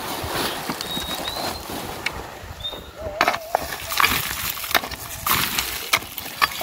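Manure is worked into nearly dry soil by hand for planting a fruit tree in a hilly area outdoors, giving close, gritty scraping and rustling with irregular soft thumps.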